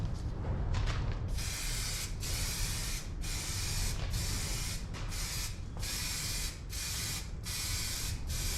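Spray can of MTN Universal Primer coating motorcycle parts for a Suzuki A100 rebuild, a steady close hiss broken by about eight brief pauses as the nozzle is released and pressed again, with no talking.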